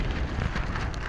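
Heavy rain pours down in the Alaskan wilderness, a dense, loud, unbroken hiss of drops hitting surfaces close by, with no voices over it.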